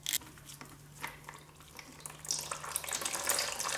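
Motor oil pours from the crankcase drain of a 2023 Honda XR650L motorcycle into a drain pan, a steady close splashing trickle that grows fuller and brighter toward the end.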